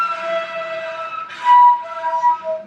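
A Turkish ney flute is blown with too much air leaking, giving a thin, breathy sustained tone with a rushing burst of air partway through. The sound is close and moderately loud, with no speech.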